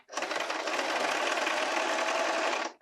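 Sewing machine stitching across elastic on trouser fabric, a steady close whirring run of rapid stitches lasting almost three seconds, alone with no talk.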